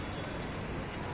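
Male pigeons in a loft give soft, low cooing over a dense murmur of birds, heard fairly close and continuous through the brief moment.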